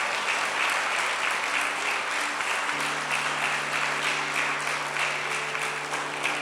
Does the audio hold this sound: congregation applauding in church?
yes